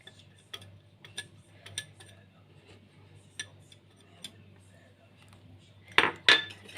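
A spoon stirs sugar and starch in a pot for a cold milk and white chocolate dessert. It makes sparse, light metallic clicks and taps against the pot, with two louder scrapes near the end over a low steady hum.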